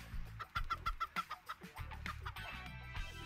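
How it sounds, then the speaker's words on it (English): A chicken in the video game Turbo Dismount gives a quick run of short, sharp clucks, then a few looser calls over a low game backdrop. "you replay it and the chicken still makes noises"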